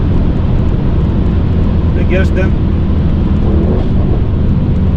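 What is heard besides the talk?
Stage 2+ Mercedes E63S engine sound while driving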